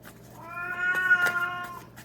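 A single drawn-out cat meow, rising and falling, close and clear against a quiet background.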